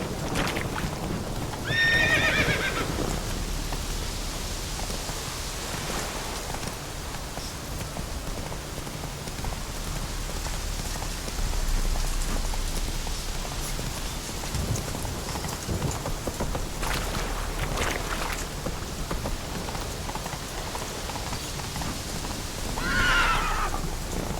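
A horse in The Witcher 3 gallops steadily with rhythmic hoofbeats over steady rain, neighing loudly near the start and again at the end.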